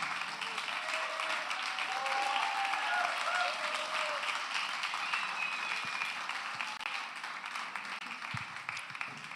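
An audience at a comedy show applauds, a dense, steady wash of many hands clapping at once that holds strong before slowly thinning out toward the end.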